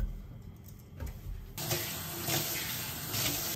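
Tap water runs into a kitchen or bathroom sink while a faucet is wiped clean, starting as a soft trickle and swelling into a steady, close rushing stream with no talking.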